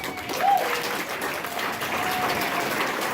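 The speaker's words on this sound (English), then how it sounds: "a round of applause for all our staff" Steady crowd applause fills the room at an awards banquet, a continuous wash of clapping honoring the staff, fairly loud throughout.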